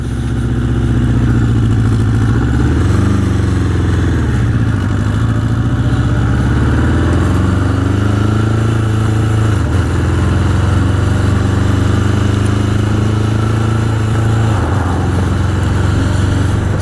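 A 1981 Honda CB750 Custom motorcycle rides along back roads in East Hampton, New York, its engine droning loudly and steadily throughout with slight shifts in pitch as speed changes.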